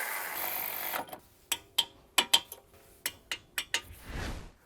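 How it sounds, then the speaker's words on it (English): Sharp metallic clicks and ratcheting taps of a torque wrench tightening brake caliper hardware on an Audi A4, heard close and spaced out against a quiet background. "come back with our torque wrench and tighten these down to 20 Newton meters"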